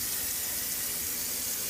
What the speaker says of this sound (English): I'm rinsing it in cold water right now